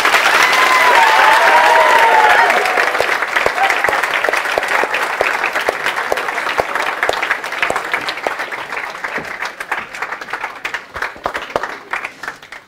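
Students clapping in a lecture hall, with loud, dense applause at the start that gradually thins and fades, while broken voices cut through it.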